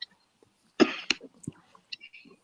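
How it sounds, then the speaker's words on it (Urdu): A single harsh cough bursts out close by, followed by a short second cough and a few softer throat sounds, in an otherwise quiet indoor setting. "جو لوگ کھانسی سے ڈر رہے ہیں وہ ڈرے نہیں"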